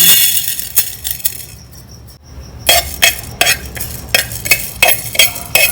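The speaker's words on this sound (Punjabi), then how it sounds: "ਜੀਰਾ ਤੇ ਸੁੱਕਾ ਧਨੀਆ ਲਿਆ ਇਹਨਾਂ ਨੂੰ ਆਪਾਂ ਰੋਸਟ ਕਰ ਲਾਂਗੇ ਜੀ" Cumin and coriander seeds dry-roasting in a pan, with a spoon stirring and scraping against the metal in a quick, repeated rhythm of bright clinks and rattles. The sound is loud and close, with a short pause near the middle.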